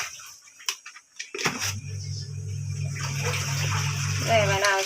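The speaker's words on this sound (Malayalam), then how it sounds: "വേവാൻ ആവശ്യമുള്ള വെള്ളം ചേർത്ത്" Water added to washed dal with turmeric and salt for cooking, a steady close pour that fills and rises after a few knocks and brief clatters.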